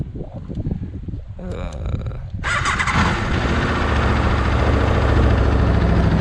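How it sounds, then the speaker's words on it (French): Aprilia RSV4 1100 Factory V4 sport motorcycle cranking over and firing up, settling into a loud, steady, close rumbling idle after a brief starter whir; a voice is heard faintly at the start. "On va quand même la démarrer"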